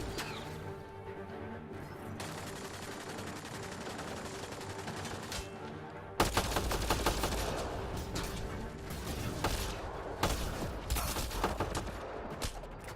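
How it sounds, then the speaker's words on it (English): Rapid gunfire from a sniper assault rifle in the video game Mass Effect: Andromeda, first sustained tonal game sound, then dense, loud bursts of shots bursting in about halfway through and continuing to the end. "a sniper assault rifle"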